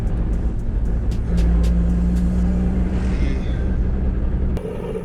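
A BMW M5 engine rumbles steadily from inside the moving car, which has a leaking rear main seal and a bad third gear, a low droning hum with a brief hiss near the end.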